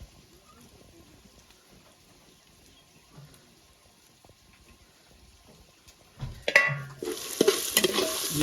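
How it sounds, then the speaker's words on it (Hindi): Chopped bottle gourd and vegetables fry in a pan while being stirred. The first six seconds are nearly quiet, then a loud burst of sizzling with scraping stir strokes runs to the end. "ये सारी चीज़ें हमने अच्छे से फ्राई कर ली है।"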